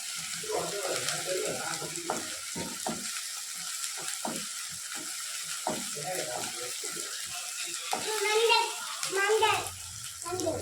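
Tomatoes sautéing in a pan while beef curry is being cooked, a soft sizzle with occasional stirring scrapes, heard under a person talking throughout.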